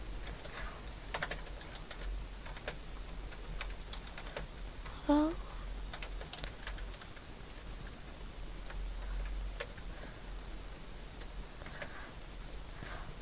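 Keys on a computer keyboard are tapped to enter text, making quiet, irregular clicks in short bursts over a low hum, with one sharper click partway through.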